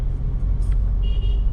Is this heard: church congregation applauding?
no